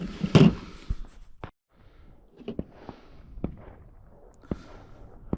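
A Smith & Wesson 686 .357 Magnum revolver with a 5-inch barrel fires at an outdoor pistol session. Several sharp, sparse reports ring out a second or so apart, with quieter rustling between them and no speech.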